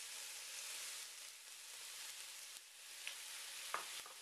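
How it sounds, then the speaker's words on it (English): Beef browns in a hot pan for Korean jap chae, giving a steady, fairly quiet sizzle with a few brief utensil clicks near the end. "We're browning the meat."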